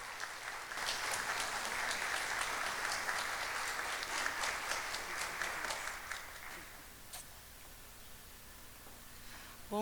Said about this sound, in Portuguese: Então vamos receber com uma salva de palmas a Ana Lúcia Lopes